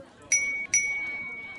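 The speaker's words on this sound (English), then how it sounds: "you hear a bell ring" Two bright, high dings from a small bell ring in quick succession over a murmuring crowd at a toast in a fantasy tabletop game session; the second ding rings on briefly.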